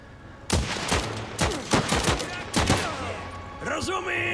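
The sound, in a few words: gunfire in a sniper battle, video game Last Train Home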